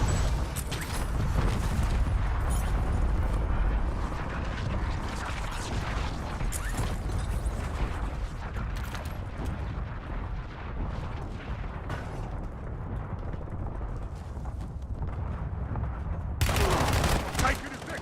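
Sustained gunfire in a military video game, with dense overlapping shots and bursts forming a loud, continuous battle din throughout, punctuated by a sharper burst near the end; voices can be heard amid the firing.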